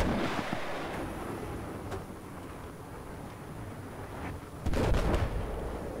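A deep boom from a gunshot or explosion in Battlefield 4 multiplayer on a bridge, with a faint crack early on and a heavier blast later over steady rumbling battle noise.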